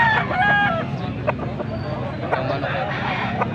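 A rooster crows near the start amid background chatter and outdoor noise, with scattered clucks and knocks following.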